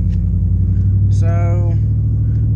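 Truck engine rumbling steadily while driving on a road, a constant loud low drone filling the whole stretch, with a brief higher tonal sound partway through.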